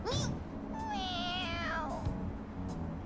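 A cat meows in the video game Persona 5, a short chirp followed by a longer wavering meow, clear and close over a low game soundtrack.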